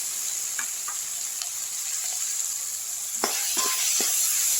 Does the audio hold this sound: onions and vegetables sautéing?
yes